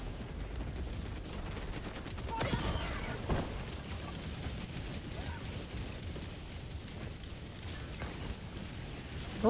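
Dense gunfire and explosions from a Helldivers video game barrage, a continuous rumbling wash of blasts with heavier bursts around the middle, mixed loud under occasional game voice.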